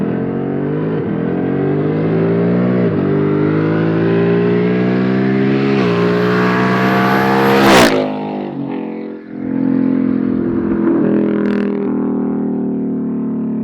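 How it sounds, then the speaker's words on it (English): A 2019 Ford Mustang GT with a muffler delete and an H-pipe in place of the resonators roars past, its raspy V8 rising to a loud peak, then fading as the car moves away. "you guys can go ahead and hear that flyby of this 2019 Mustang GT with the muffler delete and the H pipe instead of the resonators"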